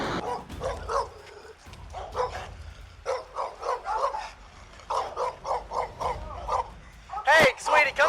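Several dogs bark repeatedly in loud, rapid bursts close by, with yips and whimpers between, while people talk over them.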